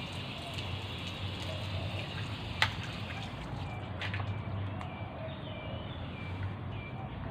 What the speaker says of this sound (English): Lots of water is coming.